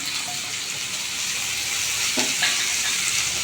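Chopped onion, garlic and ginger fry in a pan with a steady close sizzle, a continuous bright hiss with a few light stirring scrapes.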